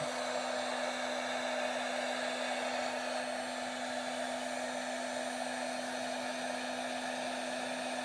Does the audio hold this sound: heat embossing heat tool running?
yes